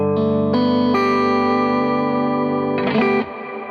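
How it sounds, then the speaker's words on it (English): Sustained guitar chords through a reverb pedal with decay set high wash out in a long, shimmering ambient reverb tail, each new strum blooming over the lingering decay before fading near the end. "I'm going to turn up the decay of the reverb actually pretty high"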